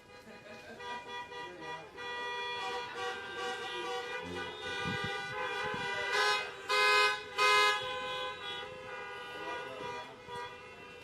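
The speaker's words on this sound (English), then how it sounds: "Let's wait for the honks, because I'm sure we'll have some in a couple seconds here" Car horns honk in overlapping bursts, getting louder toward the middle, at an outdoor Veterans Day gathering where the honking serves as applause, with a steady tonal drone underneath and voices talking throughout.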